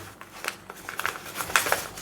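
Someone handles a small plastic packet from an INORI unboxing, trying to open it, producing close, brief crinkles and rustles in uneven bursts.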